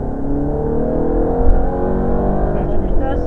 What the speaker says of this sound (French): tu débraques et tu peux accélérer